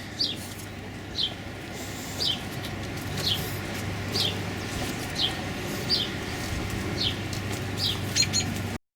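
A bird defending its territory calls about ten times in short, sharp bursts at a steady pace of roughly one per second, fairly close, over a constant low background hum, with no talking.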